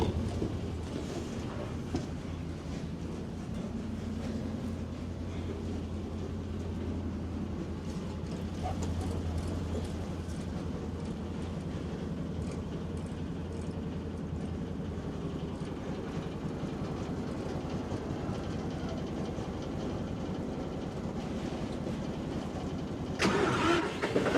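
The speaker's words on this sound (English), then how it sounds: "let's crank the old tractor" An old tractor engine on a Central Texas ranch in snowy weather cranks and then runs with a steady, mid-pitched rumble that holds close and even for a long stretch, ending with a brief louder burst.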